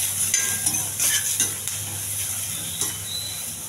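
Sliced onions and okra sizzling in a pan, with a spoon stirring and scraping the pieces at close range. A continuous fry hiss sits under occasional soft clinks of utensil against the pan.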